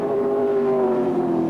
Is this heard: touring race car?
yes